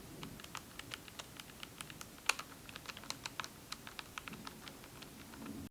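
Loose keycaps on a Logitech G915 TKL keyboard rattle and tick faintly as hands rest and press on the surface, a soft irregular patter of small clicks over quiet room hiss, with no voices.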